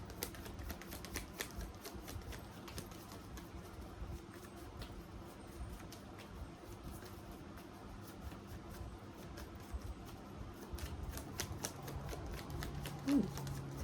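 Tarot cards are shuffled and drawn during a reading. Faint, quiet riffling and soft card snaps tick along continuously over a low background hum.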